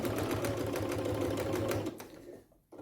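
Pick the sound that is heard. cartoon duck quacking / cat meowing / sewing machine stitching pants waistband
sewing machine stitching pants waistband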